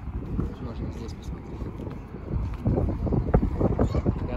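Blustery wind buffets the microphone in rough, rumbling gusts that grow stronger toward the end, with people talking nearby.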